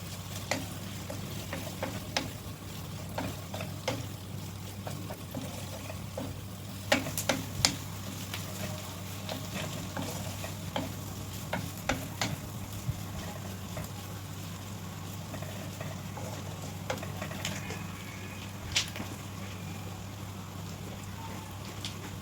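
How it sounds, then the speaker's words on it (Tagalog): Grilled chicken pieces frying in a pan for an Indomie noodle dish, giving a steady low sizzle with scattered pops and occasional stirring clicks throughout, close and moderately quiet. "ilagay na natin yung ating inihaw na chicken"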